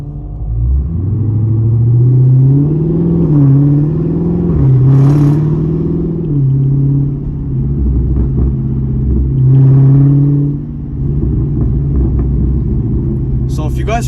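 A catless 2019 Dodge Charger Scat Pack engine driving, a loud deep rumble rising and falling through revs and gear changes, with crackling pops near the end, heard close from inside the car.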